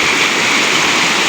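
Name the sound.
floodwater rushing through a village in Bihar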